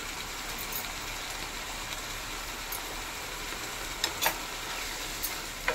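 Ridge gourd curry with chili powder, green chilies and salt is stirred in a pan. It gives a steady low sizzle with a few sharp spoon scrapes and clinks near the end.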